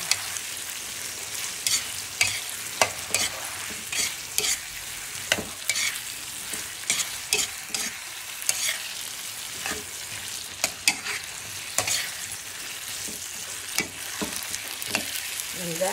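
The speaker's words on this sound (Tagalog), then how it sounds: "ginisak sa kamatis ang ating niluluto guys. Ginisak yung okra." Okra sautéed with tomato in a pan sizzles quietly under repeated sharp clicks and scrapes of a utensil stirring against the metal, close by and fairly soft, with no voices.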